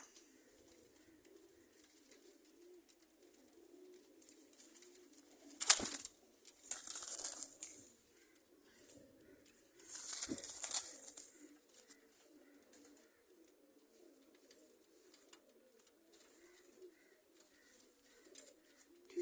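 Soft, low pigeon coos repeat quietly throughout, with a couple of brighter flutters or clinks standing out midway.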